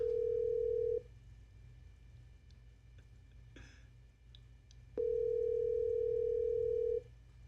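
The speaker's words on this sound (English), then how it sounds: "That's 2 rings." Ringback tone of an outgoing telephone call: two long, steady electronic rings separated by a quiet gap with a few faint clicks, heard alone and fairly clear.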